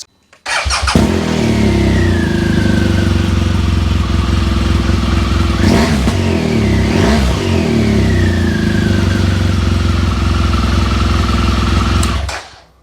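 A motorcycle engine starts up close and loud, runs with a rough rumble, revs sharply twice in the middle, then cuts off.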